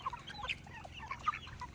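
Free-ranging chickens cluck in short, scattered bursts outdoors on a ranch, several birds close by over a low background hum.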